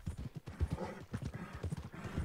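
Horse hooves clip-clop in Red Dead Redemption 2, a steady galloping rhythm of close, muffled thuds running continuously throughout.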